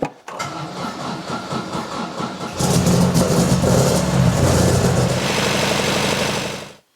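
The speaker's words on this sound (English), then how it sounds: "the engine isn't running all that good" A 1976 MGB GT engine runs rough and unevenly with a rattling, stuttering note that gets louder partway through, then cuts off abruptly at the end.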